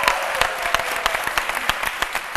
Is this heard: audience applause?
yes